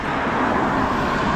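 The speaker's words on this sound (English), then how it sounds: "Traffic now." Road traffic rushes past as a steady broadband roar, loud and continuous through the short stretch.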